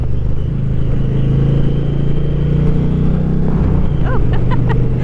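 A 2024 Indian Challenger Dark Horse motorcycle cruising with two riders aboard, its steady engine drone and wind rush constant and loud throughout, with a faint voice briefly near the end.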